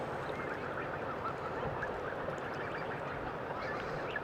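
A dense flock of geese honking and squawking continuously at a moderate distance beside a carp fishing lake, with a steady outdoor wash of background noise.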